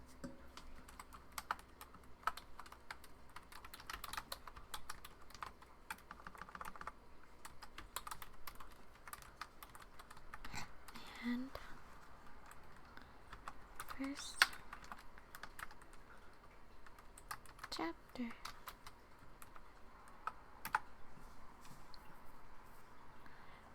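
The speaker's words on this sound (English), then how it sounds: "I need to get my keyboard." Soft typing on a computer keyboard during a quiet, whispery ASMR session with tapping and scratching sounds, the keystrokes faint and scattered across the background with occasional sharper clicks.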